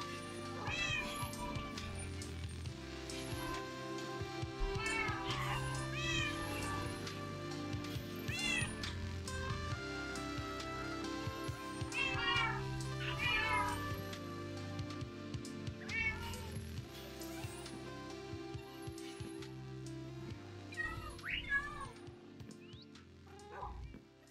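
A cat meows repeatedly in a video game, over a steady bed of game music, with occasional dog-like barks mixed in.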